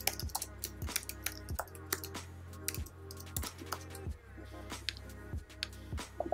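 Keys clatter on a computer keyboard as a name is typed into Photoshop, a quick irregular run of close, light clicks with short pauses between bursts.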